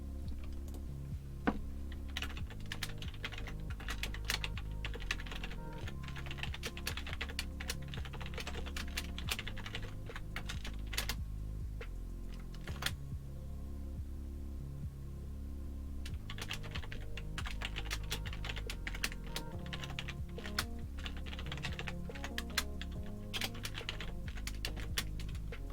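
Fast, steady typing on a computer keyboard while writing code, close and quiet, a dense run of clicking keystrokes with a short pause midway before the clatter resumes.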